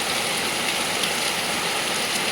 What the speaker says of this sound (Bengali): প্রচুর মুসলধারা বৃষ্টি আছে